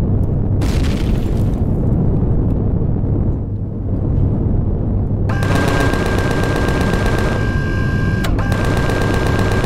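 Gunfire in the multiplayer video game Empyrion, loud and dense, with booming blasts and then a sustained rapid burst from an automatic turret gun attacking a base. No voices are heard.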